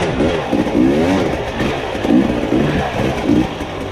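A trail vehicle engine revs hard and continuously up close as its wheels spin in slick mud, with a rising and falling roar and a rough clattering texture throughout.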